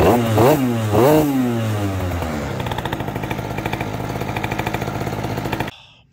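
A race-built Aprilia SR50R scooter engine revs a couple of times, then settles into a fast, steady two-stroke idle that rattles on loud and close before cutting off abruptly.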